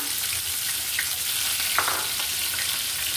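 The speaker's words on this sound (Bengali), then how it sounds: "এবার আমি আরও কিছুটা পেঁয়াজ আর রসুন দিয়ে দিচ্ছি" Onion and garlic frying in hot oil for a taro-leaf and dried-shrimp dish, a steady close sizzle that holds evenly throughout with a brief brighter crackle partway through, no voices.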